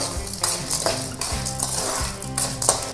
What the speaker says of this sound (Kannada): ಕಡಲೆಬೇಳೆ ಉದ್ದಿನಬೇಳೆ ಒಂದು ಸ್ವಲ್ಪ ಬಿಸ್ಕೆಟ್ ಕಲರ್ ಬರೋವರೆಗೂ ಫ್ರೈ